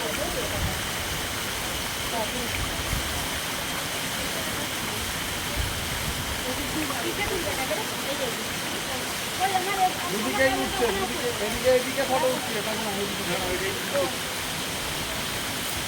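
A waterfall rushes steadily as a constant, even wash of noise throughout, with people talking faintly over it in the latter part.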